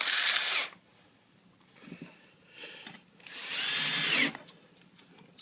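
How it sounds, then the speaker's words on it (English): A power drill drives a screw into a particle board drawer in two short bursts of whirring, each about a second long, with quieter handling noise between them. "just going to recess it just a little bit, just enough to get that screw in there"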